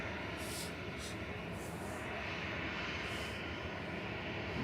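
A Ryanair airliner taxis slowly away, a steady broadband engine hiss and rumble at moderate distance, continuous and fairly faint, with brief higher whistling bursts on top.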